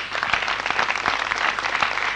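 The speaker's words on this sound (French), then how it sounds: "Je voudrais qu'on les applaudisse très fort." An audience applauds the women of the Batouk group at a Senegalese performance, a loud, even wash of clapping from many hands throughout.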